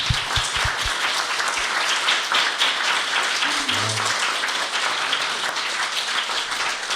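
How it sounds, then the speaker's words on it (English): An audience at a retail industry session breaks into a round of applause, a steady wash of clapping from a modest crowd indoors, even in level throughout with a few low thumps near the start. "Guys, join me in a round of applause"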